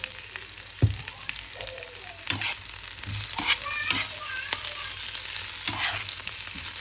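Ingredients frying and being stirred in hot oil in a home kitchen for Bangladeshi bhorta, a steady close sizzle broken by several sharp scraping stirs of a utensil against the pan, with no talking.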